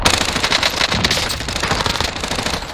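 Rapid automatic machine-gun fire in the video game Warzone 2022, loud and close, with a steady stream of shots throughout and no talk.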